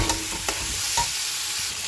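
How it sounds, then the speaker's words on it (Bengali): Papaya and potato pieces fry in a pan, a steady sizzle broken by the scrape and clack of stirring every half second or so, close and fairly loud with no voices. "পেঁপে আলুটা আবার ভাজা ভাজা হয়ে গেছে"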